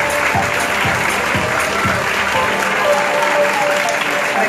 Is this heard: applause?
yes